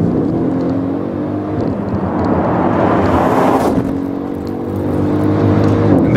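A Mercedes ML63 AMG with 557 horsepower accelerating hard, its loud engine roar rising in pitch through the gears with a brief shift break midway, heard close and alone.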